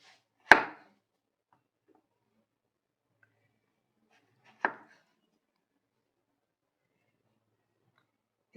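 A knife chops tender bottle gourd into pieces on a board, three crisp, isolated cuts spaced several seconds apart, close and fairly loud in an otherwise quiet kitchen.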